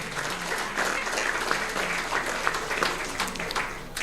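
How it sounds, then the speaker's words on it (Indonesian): Applause from a graduation ceremony audience at STIMI, an even, moderately distant wash of many hands clapping continuously without pause, no voices rising above it. "Tepuk tangan dulu untuk perempuan."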